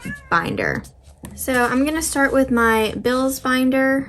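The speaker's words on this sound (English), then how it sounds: "Sorry if you can hear my cat in the background." Pet cat meowing loudly and repeatedly close by, a string of drawn-out, wavering cries over a woman's speech indoors.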